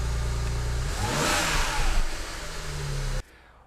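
A BMW E90 with the N54 engine pulls away after intake valve cleaning, its engine note rising smoothly as it accelerates loudly and steadily, then cutting off abruptly.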